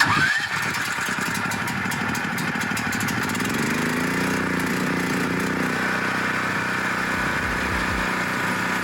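A generator starts up and settles into a steady, loud running drone that continues without a break, close by and with no talk over it.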